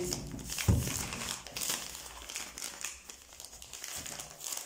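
A gift package packed with protective straw is unwrapped up close, giving a steady stretch of dry crinkling and rustling with one sharper burst near the start.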